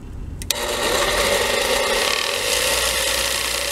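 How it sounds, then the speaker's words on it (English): A 1950 Sears bench grinder sharpens a lawn mower blade. After a short moment, steel meets the spinning wheel in a loud, continuous rasping grind that holds steady for several seconds up close. "So I'll be using my dad's 1950 Sears grinder that still works great to put a slight edge on this blade"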